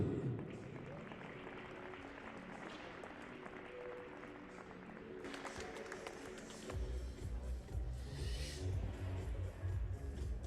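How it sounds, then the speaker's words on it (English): Modest applause ripples through a small crowd at a para shooting event, men's 10m air rifle standing, steady and fairly faint, with a low rumble joining in the latter part. "Please, a big round of applause for Radoslav Malinowski."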